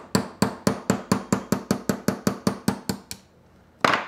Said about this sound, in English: I'm gonna tap this. I'm using a 16th inch roll pin punch,